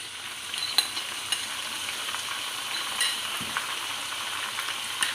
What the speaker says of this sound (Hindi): अब मैंने इसको अच्छे से फ्राई करना है, तकरीबन 5 से 10 मिनट के लिए।